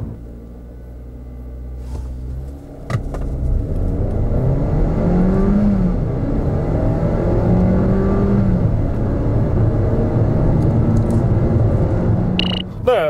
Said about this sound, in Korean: 자, 그럼 여기서 기아 셀토스의 가속 성능에 대해서도 한번 알아볼까요?